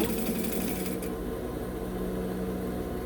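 Sewing machine running steadily as it stitches a folded fabric seam for a simple drawstring bag, a continuous close mechanical whir with no talking.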